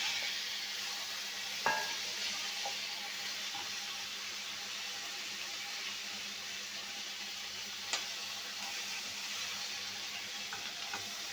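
Potato and cauliflower pieces fry in hot oil for a vegetarian curry, giving a steady, even sizzle throughout with a couple of sharp clicks from stirring.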